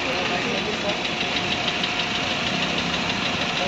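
Car engine running in heavy traffic near an airport, a steady broadband rumble with continuous road noise and no clear breaks.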